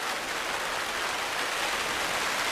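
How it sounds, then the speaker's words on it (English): Rain falls steadily outdoors in a garden, a dense, even hiss of drops that stays at a constant moderate level throughout, with no voices. "It's raining, by the way."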